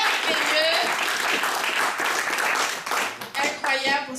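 An audience at an evening event gives steady, full applause to a host, loud dense clapping that dips and tapers in the last second.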